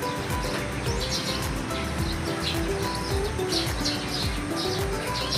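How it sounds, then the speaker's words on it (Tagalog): Numerous birds chirp and call over a banana and eggplant plantation in Bukidnon, their bright overlapping tweets scattered across a continuous outdoor background with faint rustling. "Ang daming ibon."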